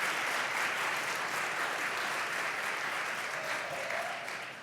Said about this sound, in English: Can we just give a round of applause to everybody in this room that's made this happen?